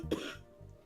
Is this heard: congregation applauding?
no